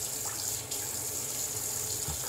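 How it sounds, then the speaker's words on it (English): Water sprinkles steadily onto a lathered shaving soap, a continuous close hiss and trickle heard alone. "I'm even gonna sprinkle some more water on the top of this."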